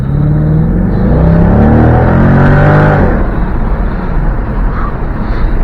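A Corvette's powerful engine roars and climbs in pitch as it accelerates hard, then eases off into a lower, steady rumble with road noise.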